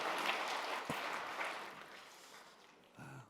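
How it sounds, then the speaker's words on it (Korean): A church congregation at a Christmas Day service in Busan bursts into applause. The clapping is dense and fairly close, then fades steadily over a few seconds. "큰 박수로 우리 격려하겠습니다"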